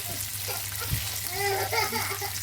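Toulouse sausage sizzles and fries in a pan, a steady close crackle running throughout while people talk over it.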